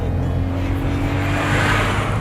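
A 2020 Volkswagen Polo 1.0 TSI turbo petrol hatchback with six-speed transmission accelerating hard, its engine note building steadily and loud throughout, heard from close by with no talk over it.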